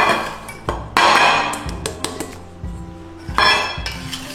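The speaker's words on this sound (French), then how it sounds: "on y ajoute farine et maïzena, on mélange un petit peu au préalable, on met dedans." Flour and cornstarch being mixed in a bowl produce sharp clinks and knocks of a utensil against the dish, irregular and close, with no speech.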